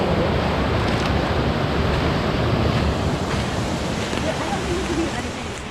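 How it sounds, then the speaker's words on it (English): A high, fast-flowing creek rushes steadily as a broad, continuous wash of water noise, loud and close, with some wind buffeting the microphone and no clear voices over it. "We can hear the creek, but you can't really see it."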